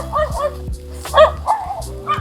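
A puppy barks and yips in short, close, high-pitched bursts, several in quick succession, with some whimpering between them.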